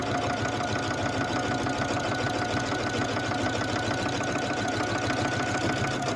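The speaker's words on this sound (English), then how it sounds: "And then I will just seam those 2 blocks together." A sewing machine stitches two quilt blocks together for a jelly roll rag quilt, a continuous, even, rapid mechanical whirr and clatter running steadily from start to finish, close and without talk.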